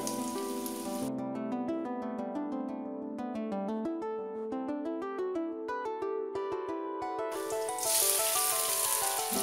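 Bread slices frying in oil in a pan give a soft, steady sizzle, clearest at the start and end, while bright melodic music plays over it in between.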